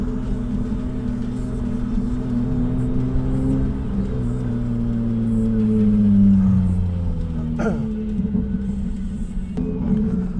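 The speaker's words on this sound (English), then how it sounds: "There's a lot of cars." Several race cars, including a 1996 Nissan Altima, run at the Slush Motorsports track, a steady engine drone with rising and falling pitch as cars pass, continuous and fairly loud throughout without talk.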